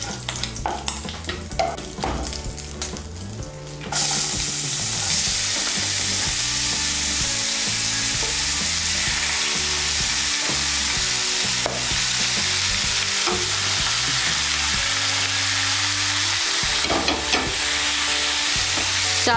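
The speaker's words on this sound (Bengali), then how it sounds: "চাল কুমড়োটাকে তেলের সঙ্গে ভালো করে মিশিয়ে নেব।" Thinly sliced ash gourd being stirred as it fries in oil, heard as a few seconds of clattering scrapes followed by a loud, continuous close sizzle with occasional stirring knocks; no voices.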